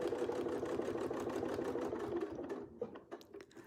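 A sewing machine stitching steadily at speed for free-motion quilting, a fast, even mechanical chatter close by that slows and breaks into a few separate stitches at the end.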